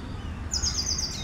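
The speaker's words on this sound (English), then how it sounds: "In or a park, you will get to listen to all these birds so beautifully" Birds chirp and sing in a park, a short bright burst of high tweets rising over a low ambient rumble of the surroundings.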